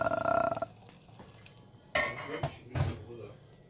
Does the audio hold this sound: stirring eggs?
yes